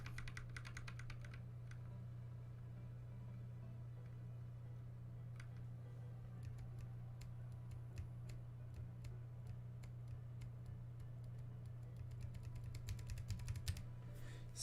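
Crisp clicks of typing on a mechanical keyboard come in quick bursts and scattered taps over a steady low hum, fairly quiet overall.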